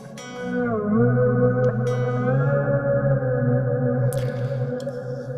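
Electric guitar played through a Kemper Profiler with delay and natural reverb, sustained chords bending on the whammy bar, wide echoing repeats trailing behind, loud and continuous with no talk.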